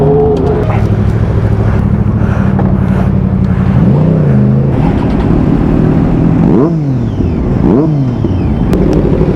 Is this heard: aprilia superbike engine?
yes